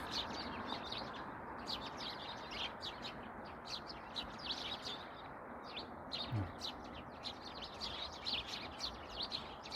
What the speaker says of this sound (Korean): 새소리 들리죠.